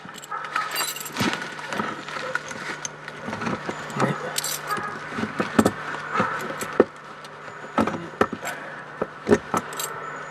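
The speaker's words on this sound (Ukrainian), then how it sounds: "Я вже не пам'ятаю, які ключі тут." Bunch of keys jangling as they are tried one after another on a lock, repeated metallic clinks and rattles in irregular bursts, close and fairly loud, over a low steady hum.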